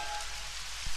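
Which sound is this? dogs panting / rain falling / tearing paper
rain falling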